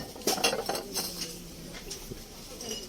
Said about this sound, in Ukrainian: Хочу вам показати дуже гарні тарілки для перших страв.